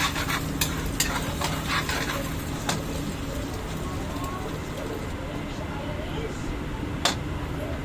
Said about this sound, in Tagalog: Yan, halo-haluin natin.